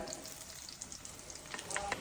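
Prawn fritters wrapped in pumpkin leaves fry in hot oil, giving a steady close sizzle with light crackles and a few brief clinks as they are lifted out.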